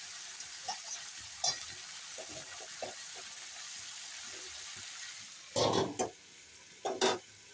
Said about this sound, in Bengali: এখন নেড়ে চেড়ে ঢাকা দিয়ে দিই